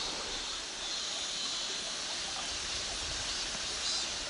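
A mountain stream flows right beside a campsite in Gangwon, giving a steady, dense rushing hiss of water that stays even and close throughout, with no voices.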